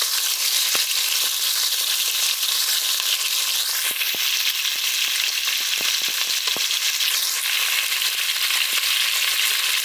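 Onion and garlic fry in hot oil in a pan, giving a loud, continuous close sizzle with occasional stirring scrapes, with no talk.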